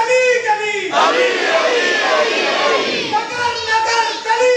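A crowd chants religious slogans at a Shia gathering honouring Ali, with loud massed voices shouting in rhythmic call-and-response bursts that fill the space continuously.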